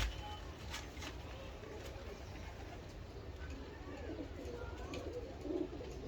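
Pigeons, including hen birds of a kasuri breed, coo softly in the background, a low steady murmur running under light talk from nearby people.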